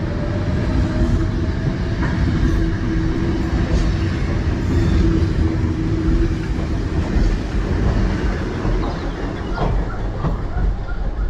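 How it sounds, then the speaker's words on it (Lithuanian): A passenger train pulls out of Mostar station in Bosnia and Herzegovina and heads into a tunnel, its loud steady rumble and clatter of wheels on rails filling the space, with faint voices in the background. "Ir iškart į tunelį traukinys."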